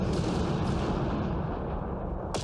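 Heavy spaceship cannon fire rumbles in a space battle in Terra Invicta, a dense, continuous barrage of booming blasts with a sharp burst near the end.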